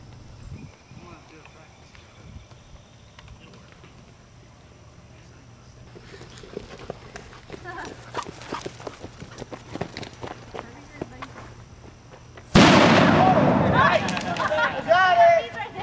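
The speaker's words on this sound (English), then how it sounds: "a little sparkle bomb here." A sparkler bomb firework goes off outdoors, bursting suddenly into a loud, sustained fizzing crackle after a quieter stretch of scattered clicks and background voices.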